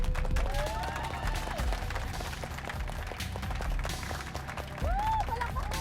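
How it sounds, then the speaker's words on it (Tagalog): Scattered clapping from a crowd rattles on steadily amid cheering voices and chatter, with a few louder whoops rising over the noise. "Palakpak mo yan!"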